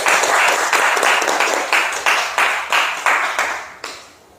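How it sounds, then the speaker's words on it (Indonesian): Audience applause for a student at a high school class session, a burst of clapping with regular pulsing claps that fades out near the end, no talk over it. "Beri aplaus untuk Numberi."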